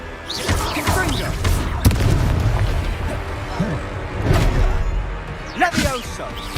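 Confringo blasting spell cast in a Harry Potter video game, a few loud booming impacts with crashing debris over a constant game soundscape, with voices heard at times.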